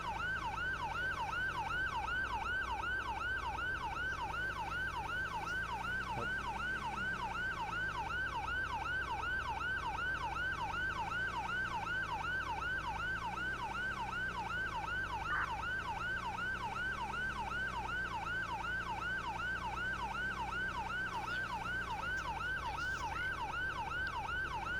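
A continuous ambulance siren in the ROBLOX video game wails in a steady, repeating up-and-down cycle, loud and close throughout, over a low engine rumble with no talk.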